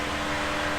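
A cooling fan on a 2005 Vauxhall Astra G 1.6 Twin Port, switched on through its fan relay, whirs as a steady, even rush of air with a faint constant hum throughout.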